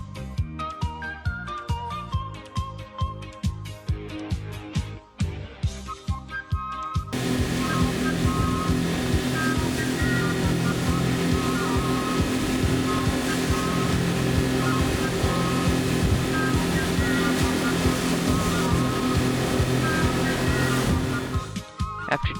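A boat crosses open ocean between Galapagos islands, a loud continuous engine drone and rushing wash of water against the hull that fills the whole stretch after a quieter, choppier opening.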